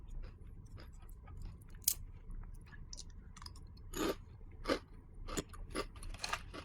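Crispy pandan khanom dok jok, a Thai sesame-scented fried flower cookie, crunched close to the mic in a few sharp bursts of crackling bites and chewing against a quiet background.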